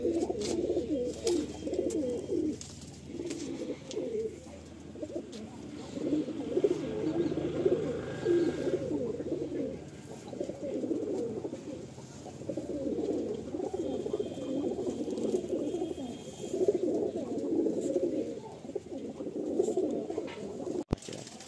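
Madrasi pigeons coo in a loft at Julpia Amtala, a steady, overlapping chorus of low throaty calls rolling on continuously at close range with no talk.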